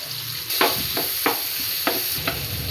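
Onion sautéing in a pan for a tomato puchero, a bright steady sizzle that jumps in loudness as the onion hits the hot oil, with several sharp stirring scrapes at regular intervals, close and clear.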